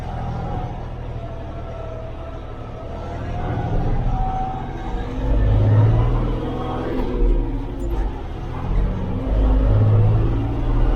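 A SAME Dorado 65 tractor engine running under heavy load, a low steady rumble with a couple of swelling surges, heard from inside the cab.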